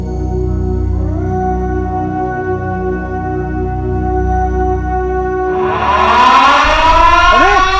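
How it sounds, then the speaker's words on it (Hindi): A civil defense siren sounds for a duty shift, a long steady wail with a rising, warbling second tone joining near the end, loud and continuous with no voices. "चलो चलो जल्दी चलो, सायरन बज चुका है।"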